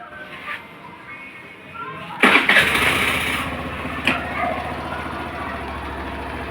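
Suzuki Burgman scooter engine cranking and catching, a sharp burst at start-up followed by a steady idling rumble, heard close with faint background noise.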